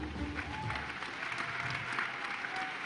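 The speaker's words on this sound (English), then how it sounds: "Keep the applause going until Segun Cole gets on seat" Steady audience applause fills a conference hall at a colloquium as a speaker is welcomed to the stage, dense continuous clapping with a faint murmur underneath.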